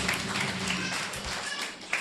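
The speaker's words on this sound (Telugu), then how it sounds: "కొట్టు చప్పట్లు గట్టిగా." A church congregation claps loudly in a steady, continuous patter of many hands for about two seconds.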